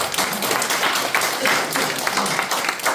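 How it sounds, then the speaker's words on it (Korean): An audience at a cosmetics product presentation breaks into brisk clapping, a fairly even patter of many hands heard close and moderately loud with no talk over it. "여기서 박수 한번 쳐야 될까요?"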